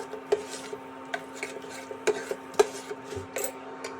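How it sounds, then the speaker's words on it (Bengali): Semolina stirred with sugar and water in a pan, a spoon scraping and clinking against the metal in irregular strokes, close and fairly quiet with no talking. "সুজিটা চিনির সঙ্গে নেড়ে নিয়ে এবার আস্তে আস্তে হাফ কাপ জলও দিয়ে দেব সমান পরিমাণে।"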